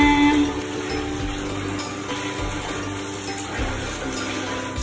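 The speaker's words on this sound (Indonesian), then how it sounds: "pakai air dari keran ke ember yang mainannya tadi udah dicelupin ke sabun" Tap water pours steadily into a bucket while soapy toy trucks are rinsed, a continuous close splashing rush with no talk over it.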